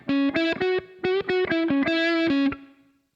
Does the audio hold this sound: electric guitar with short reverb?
yes